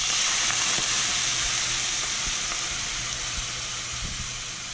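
Wine poured into a hot pan to deglaze it after cooking tautog for chowder, giving a loud, steady, broad sizzling hiss that fades slightly over a few seconds, close up with faint scraping.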